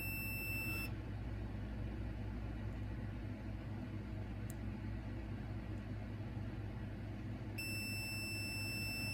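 A multimeter set to continuity mode gives two sustained high electronic beeps, one right at the start and one near the end, with a faint low hum between them.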